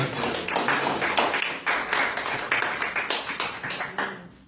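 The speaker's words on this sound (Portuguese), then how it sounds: "Uma salva de palmas para o nome do Senhor." A church congregation breaks into rhythmic hand clapping, many hands striking together in a steady, fairly quick beat that carries on for several seconds at moderate loudness before tapering off, with no talking over it.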